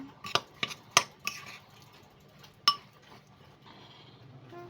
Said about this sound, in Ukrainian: І перемішую.